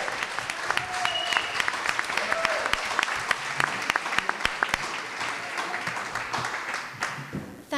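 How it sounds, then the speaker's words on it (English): An audience at a school board candidates forum gives Mary Kelly and the QLC team a sustained round of applause, steady clapping that lasts several seconds before it fades, with a voice faintly under it. "a round of applause for Mary Kelly and the QLC team"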